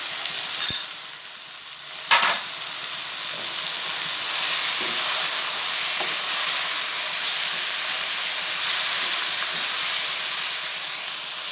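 Chicken bhuna masala frying in desi ghee in a kadai, a steady close sizzle and hiss throughout with a couple of sharp spatula scrapes near the start.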